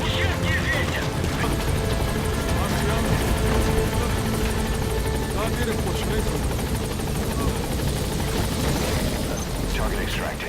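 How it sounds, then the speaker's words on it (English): A helicopter's steady rotor thump and engine roar fills the scene in Metal Gear Solid V: The Phantom Pain, loud and continuous, with a dense layer of game-style background noise. "Support helicopter is awaited."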